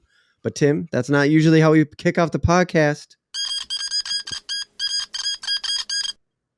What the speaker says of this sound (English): That is the sound of old-timey news.